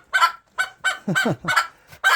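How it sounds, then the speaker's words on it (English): A hen cackles loudly after laying an egg, a rapid series of six harsh, honking squawks in uneven rhythm, close by and with no one talking over it. "I believe this chicken just laid an egg."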